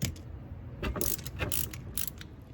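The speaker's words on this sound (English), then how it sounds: "Okay, I got my ratchet on there. Let's break this thing loose." Rear differential plug on a 2009 Saab 9-3 Aero XWD being broken loose with a hand ratchet: a close series of sharp clicking ratchet bursts with metallic creaks. No voices.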